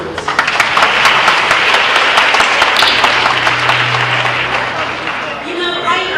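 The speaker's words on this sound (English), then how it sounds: "Give yourself a round of applause." Applause from a keynote audience in Manila, a dense, steady wash of many hands clapping that holds loud for about five seconds before tapering, with a voice breaking in at the end.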